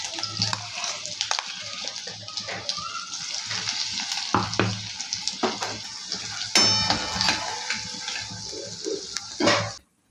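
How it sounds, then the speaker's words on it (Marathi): Cumin, mustard seeds and coarsely ground masala sizzle and crackle in hot oil in a kadhai, with steady frying hiss, scattered pops and clinks of a spoon stirring against the pan, nearby and fairly loud. "आता आपण जिरे मोहरी टाकूया आणि जो मसाला वाटून घेतला होता आपण असं जाडसर तो टाकूया"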